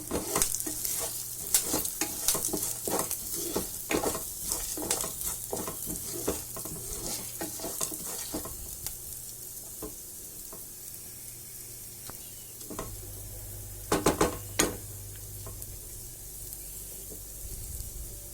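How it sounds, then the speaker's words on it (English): Spices cook in hot oil in a pan for a curd curry with vegetables, with a steady sizzle and a run of quick, close spoon scrapes and taps, quieter in the middle and then a few sharp knocks near the end. "We'll let the spices cook for maybe half a minute, 30 seconds, half a minute"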